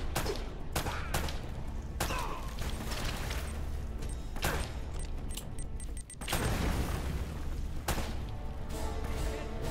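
Grenade blasts and gunfire in an Uncharted game firefight, a string of sharp cracks and booms at irregular intervals over a constant rumbling background, one heavier burst near the middle.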